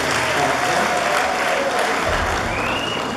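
A church congregation at a parish year-end concert in Kabuga applauds loudly and steadily throughout, a dense crowd clapping without pause.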